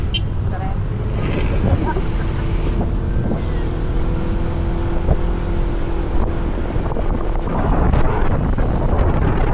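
A motorcycle engine drones steadily nearby, partly buried under gusty wind buffeting the microphone, while people talk over it.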